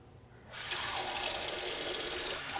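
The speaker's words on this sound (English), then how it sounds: "So let's keep the water on." A sink tap is turned on and water runs steadily and loudly into the basin during handwashing, a continuous broadband rush that starts abruptly after a brief quiet moment and keeps going.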